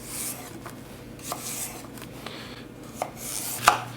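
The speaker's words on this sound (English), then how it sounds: "And then celery. I'm going to cut the bigger ones down the middle." A kitchen knife slices through celery on a cutting board, making a handful of crisp, separate cuts with quiet pauses between them, recorded close in a quiet kitchen while split pea soup is being prepared; no one speaks.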